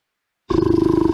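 A bear roar sound effect triggered in the Scratch coding program, starting abruptly after silence as a single short, loud, pulsing growl.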